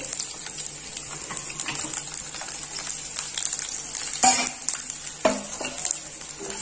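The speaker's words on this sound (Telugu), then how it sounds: "వెల్లుల్లి వేసుకొని ఒకసారి కలుపుకొని" Chopped garlic and curry leaves with mustard seeds sizzling in hot oil in a pan, a constant hiss with a few sharp scrapes and knocks of a stirring spoon near the end, close up and without talk.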